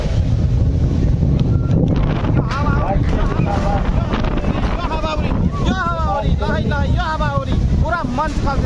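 Strong gusting wind buffets the microphone at an outdoor Nepalese event, a loud continuous roar running under a man's speech throughout.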